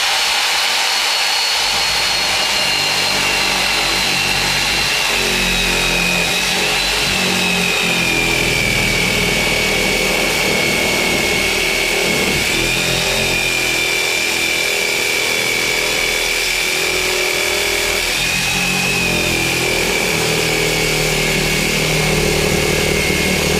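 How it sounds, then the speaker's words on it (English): A jigsaw cuts through material on a studio foundation build, giving off a loud, sustained high whine. Its pitch wavers slightly under load and it runs unbroken throughout. "first time trying it with the jigsaw"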